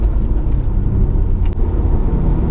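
Alfa Romeo 147 GTA engine running with a loud, steady, close-up drone and no pause over the short stretch.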